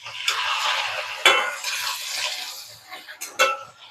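Mint, coriander and curry leaves sautéing in a pan for a garlic chutney, with a steady soft sizzle and scraping stirs, a couple of sharper utensil knocks against the pan, fading quieter toward the end.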